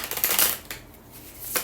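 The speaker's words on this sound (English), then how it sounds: "Okay, so you're gonna shuffle the cards." A tarot deck is shuffled close by, giving quick papery riffles and soft flutters in two short bursts with a quieter pause between, crisp and dry with no talking.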